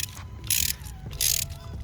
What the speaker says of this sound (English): using the swivel head makes quick work of that